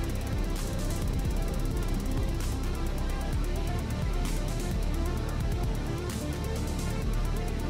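Hover bike engine in the space survival game Empyrion Galactic Survival, a steady gritty mechanical rattle and whir running continuously at even loudness, with faint pulsing clicks throughout and no talk.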